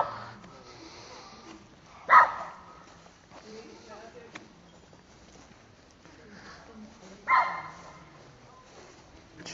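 A dog barks a couple of times at a distance in a quiet room, sharp isolated barks under ongoing conversation between people.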